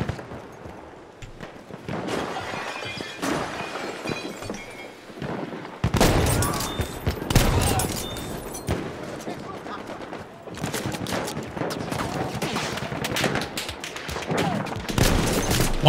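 Gunfire in the Frontlines video game: bursts of automatic shots and single cracks, loud and close, coming in clusters with short gaps and a sharper volley midway, while a player talks over parts.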